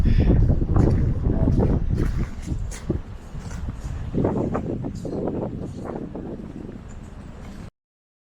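Strong wind buffets the microphone on the fogged-in summit of Mount Washington, heavy low gusts rising and easing for several seconds before cutting off.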